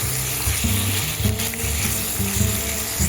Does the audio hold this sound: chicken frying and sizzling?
yes